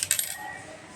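Several rupee coins clink and jingle briefly at the start, bright metallic taps that fade quickly into quiet room tone, with no speech.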